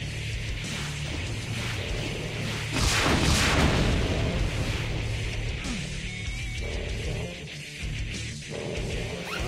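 Rocket launcher fire and explosions in the video game Brutal Doom, with a dense heavy rumble of blasts swelling loud in the middle amid continuous game noise and intermittent thuds.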